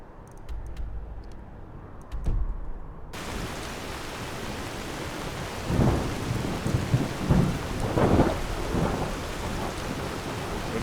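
Heavy rain pours down steadily in Skyrim, with rolling thunder booming loudly several times over the constant downpour.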